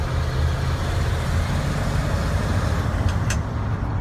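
A 1967 Ford F100 4x4 pickup with new mufflers cruises in third gear, a steady, fairly quiet engine drone and road roar heard from inside the cab, with a couple of faint clicks near the end.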